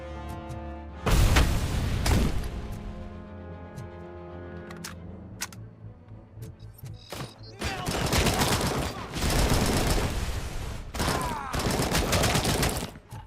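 A grenade explosion and bursts of gunfire in the Robocop video game: a loud boom followed by rapid, repeated shots and impacts, with clattering bursts continuing over sustained game music.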